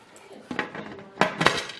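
A metal pressure canner lid is fitted and turned onto the pot, with a few clanks and scraping metal clinks, two louder knocks near the end, fairly close over faint background noise.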